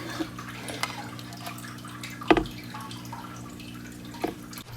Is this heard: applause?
no